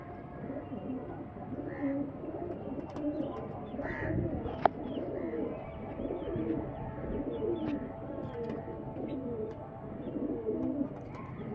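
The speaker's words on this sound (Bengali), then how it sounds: "অরিজিনাল বন্ধু লাইনের পায়রা।" Pigeons of a bred fancy line cooing in a loft, a steady run of soft low coos from several birds close by, with faint voices and rustling underneath.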